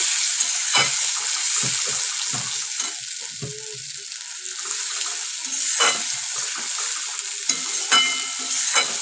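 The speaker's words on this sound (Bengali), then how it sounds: "এখন এর মধ্যে দিয়ে দেবো দিয়ে কিন্তু খুব ভালো করে মশলাটাও কষিয়ে নেব" A ginger spice paste fries in a pan with a close, continuous sizzle, and stirring scrapes and clatters now and then over the frying, with no talking.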